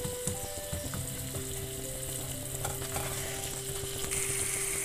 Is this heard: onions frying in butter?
yes